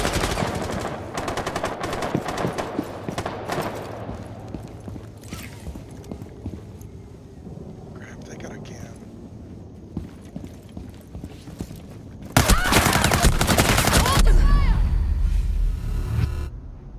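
Rapid bursts of gunfire in the video game Rainbow Six Siege, scattered through the first seconds and returning as a loud, dense volley near the end, with background game noise between the bursts.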